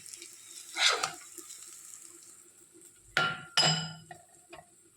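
Pointed gourd curry being stirred in a pan on a gas stove, with a few distinct scraping strokes of a spatula at the start and again near the end, over a quiet background.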